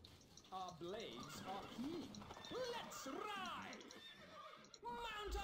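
In the medieval strategy game Stronghold Crusader, horses neigh and whinny several times in quick succession, with a faint clatter of hooves under soft game ambience.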